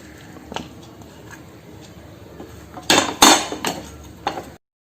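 A spoon clinks against a bowl while brinjal is mixed with spices and vinegar for a North Indian baingan masala. The clinks and scrapes come intermittently, close and fairly soft at first, then a louder cluster near the end, with no talking.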